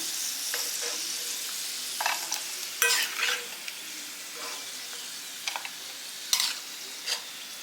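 Cashews and raisins roast in ghee for rava kesari as a spoon stirs and scrapes the pan, giving a soft sizzle broken by sharp irregular clinks and scrapes, close and without talk.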